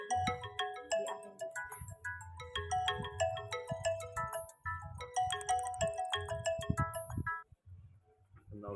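A phone rings with an incoming call, a bright, repeating electronic melody playing for several seconds before cutting off, fairly quiet in the room.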